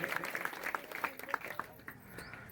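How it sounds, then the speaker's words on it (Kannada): Scattered applause from an audience at a religious discourse in Melkunda, Kalaburagi district, a patter of claps that stays moderate and fades toward the end. "ಅವರಿಗೂ ಕೂಡ ಜೋರಾಗಿ ಚಪ್ಪಾಳೆ ತಟ್ರಿ"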